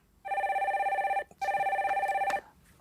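A telephone rings twice with a loud, steady electronic trill as a caller is connected on a Korean stock-market call-in broadcast, then goes quiet.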